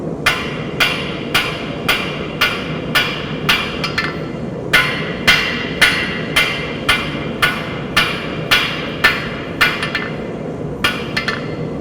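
A blacksmith hammers steel to refine a taper, striking about seventeen sharp, ringing metallic blows at a steady, even rhythm over a continuous low background roar, probably the forge.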